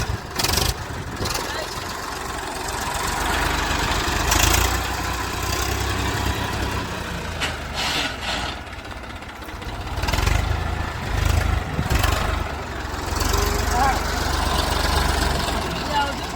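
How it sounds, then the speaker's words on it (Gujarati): Tractor engine running on an outing to a hill temple, a steady low rumble with surges and dips, close and fairly loud, with people talking over it at times. "ટ્રેક્ટરની મજા, ટ્રેક્ટરની મજા."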